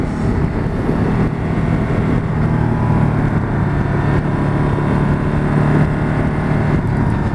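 Engine of a Ducati Multistrada 1260 S motorcycle riding a winding mountain gorge road in the Morvan, heard as a continuous low steady drone mixed with wind rush, fairly loud with no talking.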